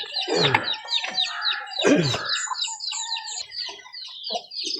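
Several chickens cluck and squawk close by, with a couple of loud outbursts followed by softer, scattered clucks and chirps.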